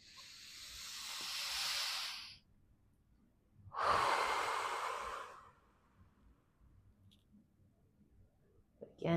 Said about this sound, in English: Again here on an inhale.